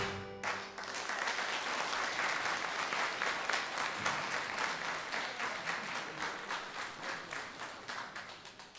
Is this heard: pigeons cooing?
no